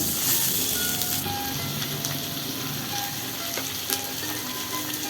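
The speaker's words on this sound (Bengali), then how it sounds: "এবার আলু দিয়ে দেব, একটু হালকাভাবে নেড়ে দেব।" Potatoes tossed into a hot pan with black cumin seeds and slit green chillies, frying in a loud continuous sizzle with light stirring scrapes throughout, no voices.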